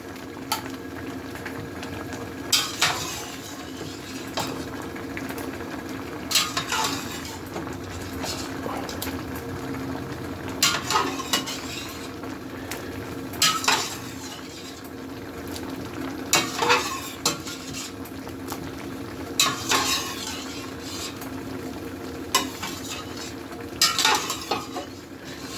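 A spatula stirring giblet gravy as it thickens in a pot, giving soft repeated scraping strokes against the metal over a low, steady bubbling simmer, with brief voice remarks now and then.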